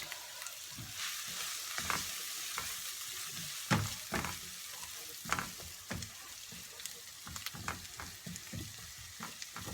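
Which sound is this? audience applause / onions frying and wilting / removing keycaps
onions frying and wilting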